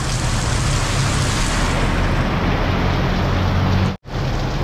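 Steady, dense rain pours down at a construction site, a loud continuous hiss with a brief break near the end, with no voices heard.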